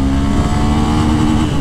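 A brand-new Honda Twister motorcycle accelerating, a loud continuous engine drone with a steady pitched tone, close by and alone without talk.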